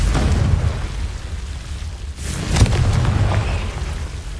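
Confringo blasting curse detonating in Hogwarts Legacy, a deep rumbling boom that fills the opening, drops away briefly, then swells into a second burst with crackling debris, loud and close with no talk.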